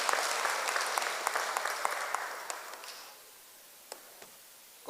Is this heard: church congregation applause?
yes